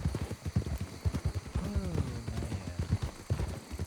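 A horse walking in a snowy video game landscape, its hooves clip-clopping in a steady, moderately close rhythm beneath a voice, with a brief sliding tonal sound midway.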